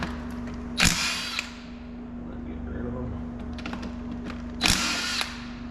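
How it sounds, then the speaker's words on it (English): An impact wrench works an 18 mm power steering pump bracket bolt on an LS-swapped 1980 Chevrolet K10 pickup, two short loud rattling bursts several seconds apart over a steady electrical hum. "18 mil. Put her on the old impact."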